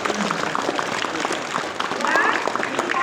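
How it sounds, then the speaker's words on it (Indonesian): A crowd of students and staff at a school flag ceremony applauds prize-winning pupils, a dense, continuous wash of clapping that swells slightly near the end, with a voice faintly under it. "Tepuk tangan untuk anak. Tepuk tangan betul."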